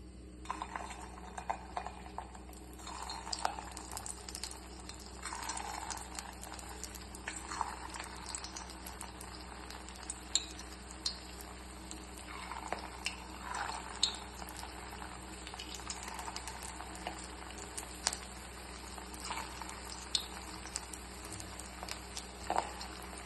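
Potato balls deep-frying in hot oil for a crispy evening snack, giving a steady faint bubbling sizzle with scattered small pops and occasional utensil clinks throughout.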